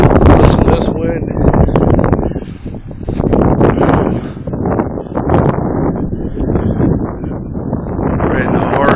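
Strong, gusting 58 mph wind roaring across the center of Martinsburg, Pennsylvania, a town near Lock Mountain, buffeting loudly and continuously while someone talks over it.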